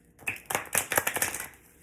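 A deck of tarot and oracle cards is shuffled close up, with a quick run of crisp riffling flutters and soft slaps lasting under two seconds, no voices.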